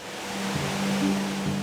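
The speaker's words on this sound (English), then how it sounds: "It's the centerpiece of the city, and its roar can be heard throughout Riverfront Park." Spokane Falls, a large urban waterfall in Riverfront Park in Spokane, Washington, gives a steady broadband roar of rushing water, loud and unbroken, with a faint low hum beneath.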